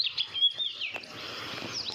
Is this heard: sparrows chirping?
yes